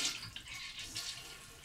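Water rushes and gurgles in a toilet tank weighted with filled water bottles, a steady hissing wash with brief surges that never builds into a full flush, close and fairly quiet.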